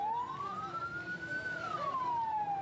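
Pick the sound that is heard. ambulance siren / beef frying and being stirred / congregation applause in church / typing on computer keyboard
ambulance siren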